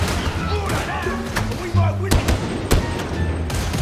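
A few sharp, punchy gunshots from a gun in the Warhammer 40K: Darktide video game, played as the Ogryn, crack out amid ongoing game sounds and music, with a voice talking over them.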